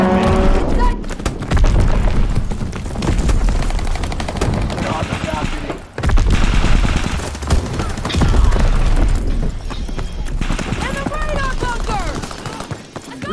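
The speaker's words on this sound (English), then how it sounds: "Fighter pilot inbound. Strafing the target." Strafing run from a fighter plane in a World War II shooter game: dense, continuous machine-gun fire with heavy booming bursts over about thirteen seconds, a brief lull near the middle, loud and close.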